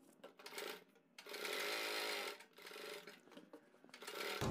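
A sewing machine stitches a kurti in close, rapid bursts of needle clatter separated by short pauses, starting and stopping several times with no talking.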